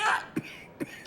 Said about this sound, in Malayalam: ഡോ ഇങ്ങനെ ചുമക്കാതെ,